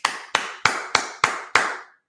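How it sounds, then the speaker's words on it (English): Six slow, evenly spaced hand claps ring out close and alone, each a sharp crack with a short decay, the last trailing off into silence. "Give yourself a hand of applause."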